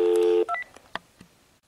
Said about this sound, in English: let's start dialing